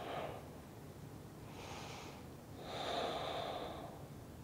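Slow nasal breaths during a yoga flow come in three soft, close bursts, a short one at the start, another mid-way and a longer, louder inhale near the end, with quiet pauses between.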